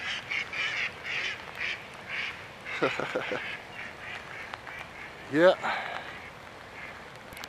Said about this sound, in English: Here goes the ducks.